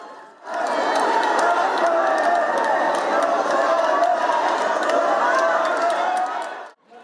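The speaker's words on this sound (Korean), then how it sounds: "발 디딜 틈이 없을 정도로 많은 인파가 몰렸고 환호성도 끊이지 않습니다." A large, dense crowd roars and cheers continuously at Seomun Market in Daegu, a steady wall of many voices with shouts rising out of it, close and loud throughout.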